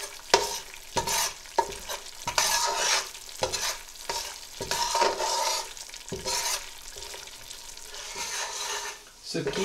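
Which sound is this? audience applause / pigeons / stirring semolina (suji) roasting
stirring semolina (suji) roasting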